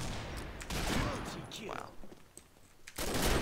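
Bursts of rapid gunfire from the online shooter Combat Arms come in loud clusters separated by short gaps, with a voice talking over them.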